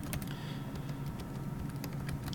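Quick, uneven clicking of a computer keyboard as a terminal command is typed, close and steady throughout, with no voice.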